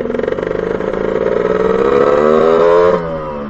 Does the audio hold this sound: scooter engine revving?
yes